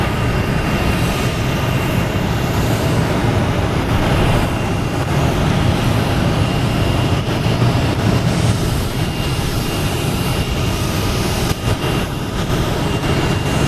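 A Lufthansa Airbus A380 airliner arriving from Munich approaches Boston Logan Airport with its gear still up, a loud, steady, broad engine roar that fills the whole stretch without letting up.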